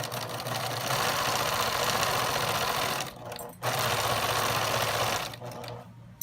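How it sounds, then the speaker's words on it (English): A sewing machine stitches quilt strips in a fast steady whirring run, pausing briefly partway through and stopping near the end, close and fairly quiet with no talking. "Okay, so you're gonna sew."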